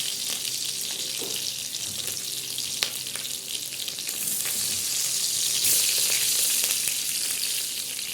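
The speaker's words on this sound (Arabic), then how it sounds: "حمر السجق وارجع لكم" Sausage frying in oil in a pan gives off a steady bright sizzle and crackle that swells louder midway, with occasional stirring clinks and no talking.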